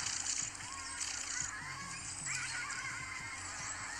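Giant otters attacking a caiman, giving repeated harsh, squealing calls amid splashing water, a steady busy chorus close by.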